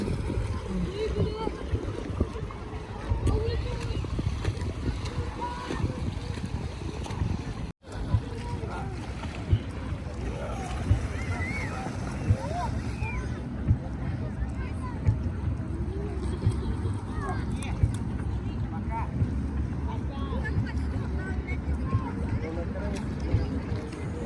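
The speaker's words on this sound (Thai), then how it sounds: "บรรยากาศแดดออกแต่ว่ามีลมเนาะค่ะ" Wind blowing outdoors on a sunny, breezy day of about 22 degrees in Russia, heard as a loud, continuous low rumble buffeting the microphone throughout, with one short dropout and faint voices underneath.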